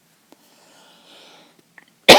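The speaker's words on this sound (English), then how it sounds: "Pardon my cough." A single sharp cough bursts out at the end, loud and close, after near silence with a couple of faint clicks.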